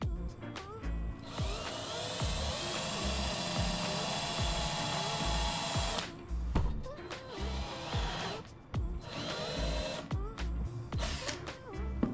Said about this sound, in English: so I can drill new holes